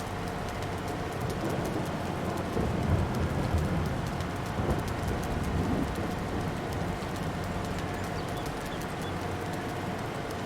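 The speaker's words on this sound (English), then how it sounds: "Now it's raining in-game." Steady rain patters with low thunder rumbling through it in the Farming Simulator 22 video game, continuous and even, with no talk.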